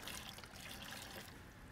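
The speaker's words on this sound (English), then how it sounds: "Always start with water." Water pours into a container to begin a concrete mix for a large crocodile sculpture, a soft steady splashing trickle that stays faint but continuous, with no voices.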